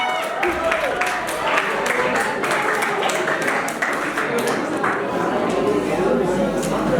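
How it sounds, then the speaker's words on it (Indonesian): Audience applause for the emcee at a high school videography seminar: steady, dense clapping from a crowd that fills the room at moderate loudness, with voices mixed underneath. "Tepuk tangan buat Linding, teman-teman."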